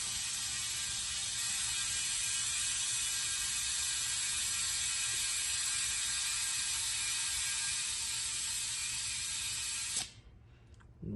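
A portable tire inflator pump runs continuously while a plugged tire is filled to 35 PSI, a loud, close, steady buzzing whir with a rapid mechanical rattle that cuts off near the end.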